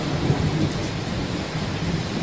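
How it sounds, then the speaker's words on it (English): During a thunderstorm, a low, rolling rumble of thunder sits beneath a continuous hiss of rain hitting surfaces, steady and moderately loud with no one talking. "Ooh, that's a weird thunder."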